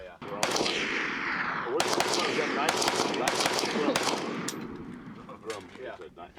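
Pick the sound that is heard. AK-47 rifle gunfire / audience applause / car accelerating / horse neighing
AK-47 rifle gunfire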